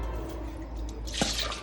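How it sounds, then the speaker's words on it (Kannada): Tamarind being rinsed by hand in mineral water in a home kitchen, soft drips and a brief splashy swish of liquid, close and quiet with no talking. "ಮಿನರಲ್ ವಾಟರಲ್ಲಿ ಚೆನ್ನಾಗಿ ತೊಳಿಬೇಕು"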